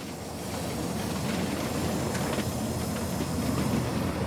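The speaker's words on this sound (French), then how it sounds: "Jean-Michel est concentré en s'approchant de Andelot en montagne, où l'autorail va attaquer la montée vers Morée." An X2800 diesel railcar climbs a mountain line near Andelot-en-Montagne, a loud, steady engine roar with rail clatter and brief hissing bursts, no voices.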